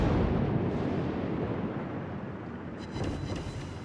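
Torpedoes striking a battleship in the World of Warships naval video game, heard as a heavy, booming explosion with a long rumbling tail that fades, then a second crackling impact near the end; no speech.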